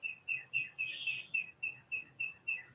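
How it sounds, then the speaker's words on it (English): Small birds chirp in a steady series of short, bright tweets, about four per second, fairly close and clear over a faint low background hum. "You hear the birds?"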